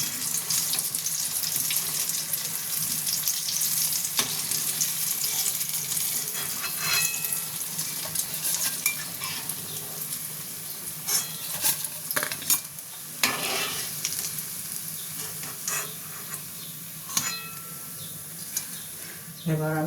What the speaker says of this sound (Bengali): এবার আমি বাকিগুলো ভেজে নেব।